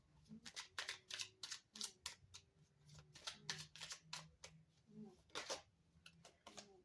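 Tarot cards shuffled by hand, a run of crisp riffling bursts in a fairly regular rhythm, close and clear, with a faint low murmur in the background.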